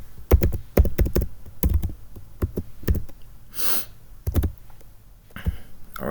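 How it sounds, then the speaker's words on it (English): Fingers tapping a computer keyboard in short irregular clusters of sharp clicks, close and distinct, with a couple of brief breathy noises between the bursts and no speech. "I'm gonna just type up this guy Maxwell"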